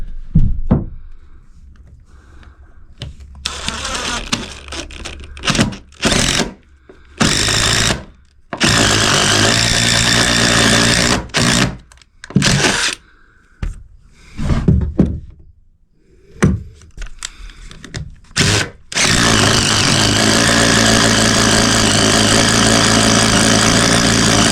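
A power drill bores holes for running Smurf tube and wire in a baby room ceiling, loud grinding bursts starting and stopping, then running longer and steadily near the end.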